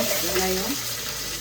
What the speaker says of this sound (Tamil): இப்போ பார்த்தீங்கன்னா வெங்காயம் போட போகிற பாருங்க